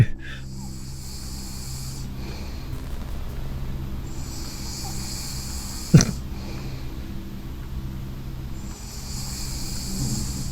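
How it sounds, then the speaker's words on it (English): Noisy breathing of a sleeping figure in the video game Midnight Scenes, slow rasping inhales and exhales repeating under a low rumbling background, with one sharp thump near the middle. "That's some noisy, non-snoring sleeping, buddy."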